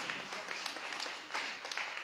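Audience clapping for a woman winner at a regional awards ceremony honouring women in trades, a steady wash of many hands with small swells, filling the room without pause.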